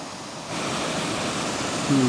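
A roadside waterfall gives a steady, broadband rush of falling water that swells louder after the first half second and holds evenly, close and continuous.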